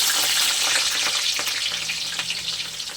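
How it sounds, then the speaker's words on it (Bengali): Dried chilies, spring onion and chopped onion hit hot oil with a loud, dense, hissing sizzle that stays strong throughout, with faint stirring ticks underneath. "এবারে ফোড়নে দিয়ে দেবো শুকনো লঙ্কা, পেঁয়াজ পাতা, আর দিয়ে দেবো পেঁয়াজ কুচি আর লঙ্কা কুচি।"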